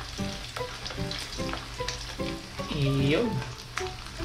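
Fish frying in a pan at a riverside catch-and-cook, a steady bubbling sizzle running throughout with scraping stirs and a voice talking over it up close.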